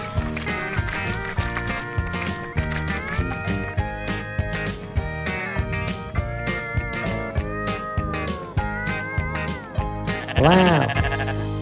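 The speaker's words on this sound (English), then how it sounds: "these are the cute sheep, and they feed on grass" Sheep bleat over a steady, rhythmic music track. A loud, wavering bleat stands out near the end.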